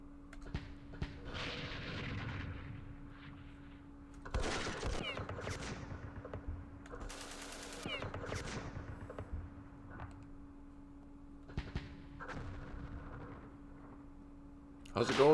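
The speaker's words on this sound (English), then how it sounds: "Mortars, and machine guns." Mortar and machine gun fire in the Campaign Series Vietnam wargame, set at Dien Bien Phu: bursts of rattling automatic fire and sharp blasts come in clusters over a steady hum, with someone talking throughout.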